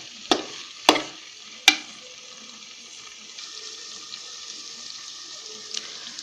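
Beef tripe frying with spices in a pan while being stirred, three sharp clanks of the spoon against the pan early on, then a steady soft sizzle that continues alone.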